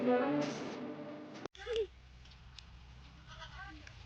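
A goat gives a short, wavering bleat close by, with a faint second bleat later, amid louder human voices and outdoor noise.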